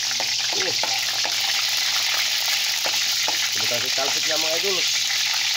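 Garlic drowned in hot oil, frying for Filipino adobo, giving a loud, steady sizzle and crackle that fills the whole stretch while someone talks over it.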